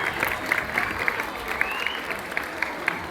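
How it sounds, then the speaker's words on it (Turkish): Steady applause from a crowd at an oil wrestling exhibition in Kastamonu, Turkey, dense clapping with a few sharper individual claps standing out, sustained throughout. "Sevgili Salih amcamıza, büyük pehlivanlarımıza güçlü alkışlarınızla teşekkür ediyoruz."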